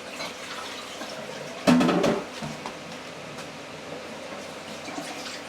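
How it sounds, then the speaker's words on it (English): Cold water poured off a pot of cooked cheesy ravioli, a short close splashing gush of about half a second that drains away, with quiet kitchen noise before and after. "I just poured the cold water off the ravioli"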